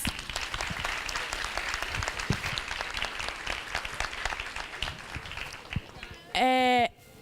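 An audience applauds with dense, sustained clapping that fades slightly, followed by a short, bright electronic tone at the end.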